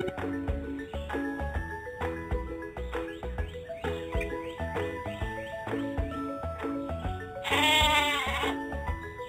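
Bouncy, plucky music plays steadily, and a single wavering sheep bleat rises over it near the end.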